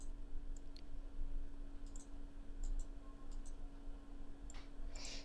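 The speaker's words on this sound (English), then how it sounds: "Now click for mouse right button option." Computer mouse buttons clicked a few times at scattered intervals, small sharp ticks up close over a low steady hum, with no one speaking.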